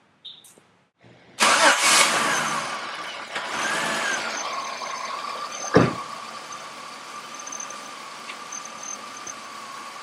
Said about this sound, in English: Now let's start the car and see what happens.